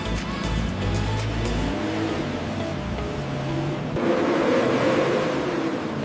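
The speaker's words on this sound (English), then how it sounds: "The rolling road dyno simulates real driving conditions." A McLaren supercar engine revs on a rolling road dyno in the factory, a loud continuous roar that rises in pitch and swells near the end, with no voices.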